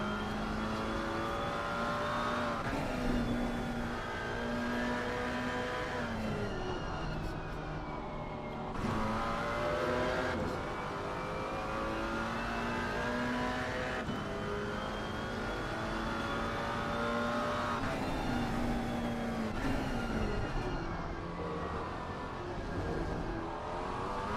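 BMW race car engines howl steadily around the Imola circuit in a racing game, with several close cars layered together and rising and falling through repeated gear shifts and revs, without a break.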